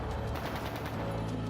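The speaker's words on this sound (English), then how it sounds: "That didn't sound good. That sounded like gunfire." Rapid, dense bursts of gunfire in the video game Trails of Cold Steel II crackle steadily over a continuous noisy backdrop, without pause.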